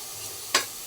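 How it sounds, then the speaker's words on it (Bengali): A vegetarian curry with bori sizzles faintly in a pan on the stove while rice boils nearby, one quick stirring scrape standing out over the soft hiss. "এদিকে ভাত ফুটছে, আর এদিকে হচ্ছে নিরামিষ একটা তরকারি"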